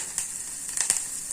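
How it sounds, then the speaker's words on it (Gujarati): Garlic dropped into hot oil for a Gujarati chandan chakori dish made from leftover rotis, giving a faint, steady sizzle with a few brief crackling bursts, heard alone. "આપણે આમ તેલમાં લસણ નાખી દેશું"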